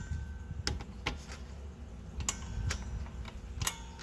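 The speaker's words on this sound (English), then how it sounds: "if you're doing it right, you hear clicking noise" Rear drum brake adjuster on a Honda Civic being turned: faint, sparse clicks spaced irregularly, about half a dozen sharp ticks over a low background rumble.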